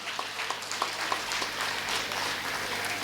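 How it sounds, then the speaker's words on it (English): Applause from the audience at a chess tournament prize ceremony, a steady wash of many hands clapping at moderate distance with a few sharper claps standing out. "Give me a big round of applause."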